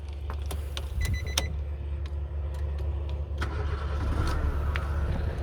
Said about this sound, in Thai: เข้ามาในรถบิดสตาร์ทนะครับ